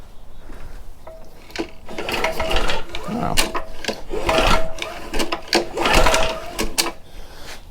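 Kawasaki FJ180 small engine, once stuck and now reassembled, being pulled over by hand: a busy run of mechanical clicking and ratcheting with whirring bursts, close and moderately loud, with a brief exclamation from a voice.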